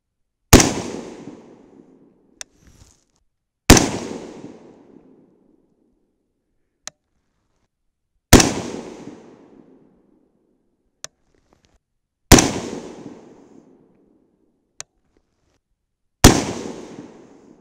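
Five loud, sharp rifle shots from a 5.56/.223 PSA upper rifle firing Norma 77-grain Match King ammunition at a range, spaced several seconds apart with ringing decay, plus faint clicks between them.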